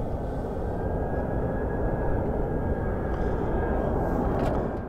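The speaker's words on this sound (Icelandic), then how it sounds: "það er flugvél sem truflar okkur." A cargo airplane flies overhead, a loud steady broadband engine roar that fills the whole stretch without letup and drowns out everything else.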